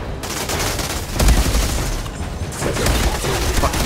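Dense, continuous automatic gunfire from a firefight in the video game Outriders, a loud sustained barrage of overlapping shots that swells in bursts around the middle and end, with no voices over it.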